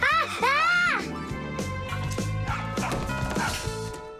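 A cartoon dog yaps sharply a few times at the start, then scattered barks and yips continue over cartoonish background sounds.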